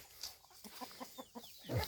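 Chickens clucking in the evening as they settle to roost, a faint, evenly spaced series of soft clucks followed by a louder squawk at the end.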